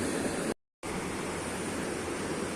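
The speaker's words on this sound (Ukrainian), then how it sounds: "поток і швидкість води велика" A fast-flowing mountain river with a strong current in Hann. Münden, Germany, gives a loud, steady broadband rush that drops out for a brief moment before resuming.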